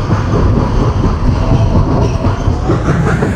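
Sindhudurg Express on a monsoon run from Mumbai to Ratnagiri, rumbling steadily near a short tunnel: a loud, continuous roar of wheels and carriages with a dense low rumble and no voices.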